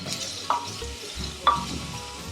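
Two onions fry in a pan with a soft, steady sizzle, punctuated by two distinct clacks of a spatula against the pan about a second apart, close by and without speech.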